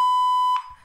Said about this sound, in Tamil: பீப் சவுண்ட் எஃபெக்ட் இது யூஸ்ஃபுல்லாக இருக்கும்.